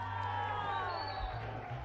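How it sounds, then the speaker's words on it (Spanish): Crowd at a celebration event cheering and applauding over steady hubbub, a dense, continuous wash of voices and whoops throughout. "¡Fuerte el aplauso!"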